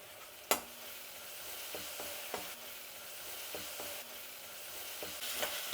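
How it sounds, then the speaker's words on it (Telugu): Ginger garlic paste fries in oil with onions and chillies in a pan, a quiet steady sizzle broken by occasional sharp clinks and scrapes of a stirring spoon. "ఇప్పుడు అల్లం వెల్లుల్లి పేస్ట్ వేసుకుందాం."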